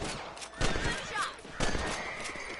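Rifle shots in Red Dead Redemption fired at thieves, two or three sharp cracks spaced about a second apart, with horse and ambient game sounds between them.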